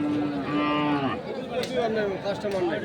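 Sahiwal calves moo at a crowded cattle market, one drawn-out low call followed by several overlapping moos close by over a noisy market background.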